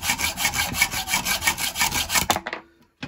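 A metal bolt head is being cut through with rapid, rhythmic back-and-forth rasping strokes, loud and close, for about two seconds before the cutting stops abruptly and a faint clink follows.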